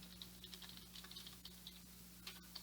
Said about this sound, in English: So everything that I type from now on